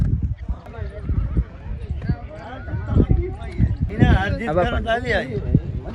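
Horses at a revaal chaal horse race in Keshod give loud, close whinnies and neighs over clip-clopping hooves, with people talking throughout.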